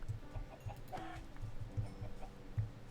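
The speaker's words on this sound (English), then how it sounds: "Hey, chicken." A Minecraft chicken clucks in short, soft, repeated bursts against game background noise while sheep are sheared and eggs gathered nearby, with no voice over it.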